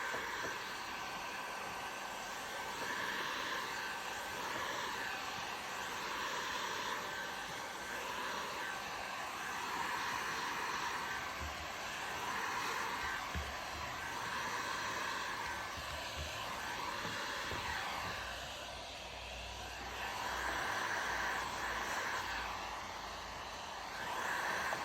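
A heat gun blows steadily while heating window tint film on a Jeep Cherokee, producing a faint, continuous airy whoosh with a slight hum that holds unbroken throughout.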